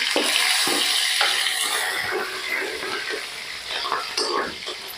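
Chilies fry in a hot kadhai with a close, crackling sizzle, punctuated by scraping stirs of a spatula; the sizzle swells and fades unevenly across the clip.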